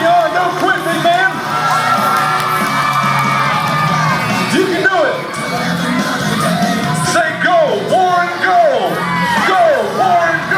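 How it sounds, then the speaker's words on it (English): A crowd cheers on a strongman at a strength-team show, with loud whoops, yells and children's shouts rising and falling over several seconds, close and energetic. "They're cheering you on. Don't quit"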